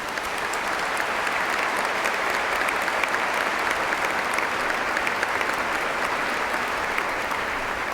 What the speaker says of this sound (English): please join me in giving a round of applause to the graduates and all those who have assisted in their